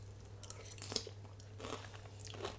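Close crunchy chewing of green Thai curry with vegetables over cauliflower mash, a few irregular bites and crunches spread across a short quiet stretch with a low steady hum beneath.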